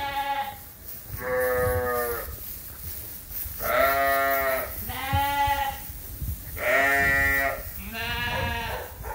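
Lambs bleat in a barn, several clear, close calls in overlapping bursts, some higher and some lower, with faint rustling in between and no talking.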